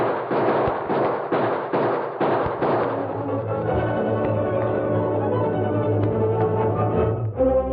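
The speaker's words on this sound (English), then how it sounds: "Sounds like... Gunfire." Gunfire sound effect from a 1946 Western radio drama: a rapid volley of sharp, close shots in the first few seconds, followed by a sustained ringing, droning tone that fades out near the end.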